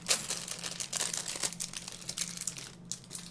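A plastic bag full of small LEGO parts crinkles and rustles steadily up close during a build, a continuous run of crisp crackles with no talking.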